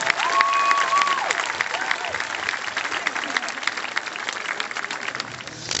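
Audience at a high school ceremony applauding teachers, a dense sustained wash of clapping that slowly thins out over a few seconds, with a whistle near the start and some crowd murmur.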